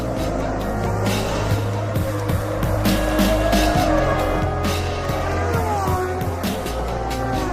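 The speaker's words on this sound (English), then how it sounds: "The cars make their way round the formation lap and try to warm their tyres and brakes for the start." Formula 1 cars at the 2005 Indianapolis race drive the formation lap, engines droning steadily and loud with occasional tire squeal, cars passing close in a continuous roar.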